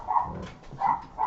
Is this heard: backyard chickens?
no